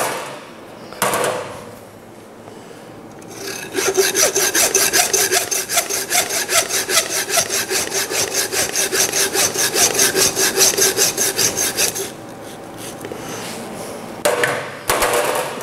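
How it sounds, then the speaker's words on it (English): A hand saw cuts through bone in a cut of meat, a steady run of quick, even back-and-forth strokes up close. The strokes sound for several seconds, then stop, with no talking. "Once you're through the bone, you stop sawing"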